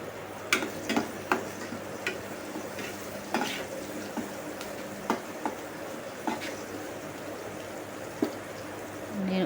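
Sliced onions and two green chillies fry in hot oil with a soft, steady sizzle, punctuated by scattered light taps and scrapes of stirring.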